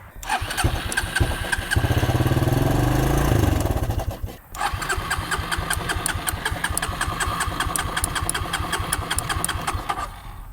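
A Suzuki QuadRunner ATV engine is cranked by its electric starter, briefly catches with a loud rough burst, dies, then cranks again in a long steady rhythmic run without starting.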